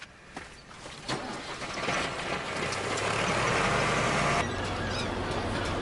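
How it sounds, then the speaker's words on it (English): A rusty old tractor engine starts up: a few clanking ticks and cranking bursts, then the motor catches and settles into a steady, close rumbling idle that continues to the end. "Now, take this rusty old tractor and get off Lord Hazelwood's land."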